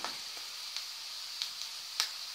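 Potatoes fry in a pan with a steady, quiet sizzle, broken by a few brief crackles and pops, with no one speaking.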